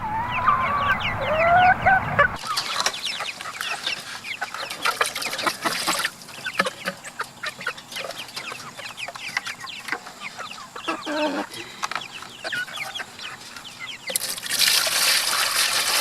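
Chickens cluck and murmur steadily close by in a mulch garden, with trickling water in the background and a brief burst of louder clucking at the start.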